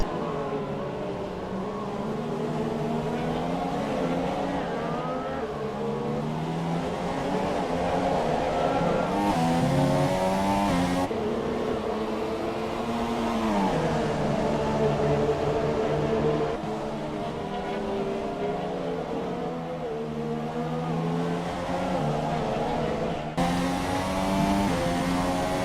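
Formula One race car engine in the F1 2017 video game at Sepang, a steady high-pitched whine holding through long stretches with gear-shift breaks and pitch drops, loud and continuous.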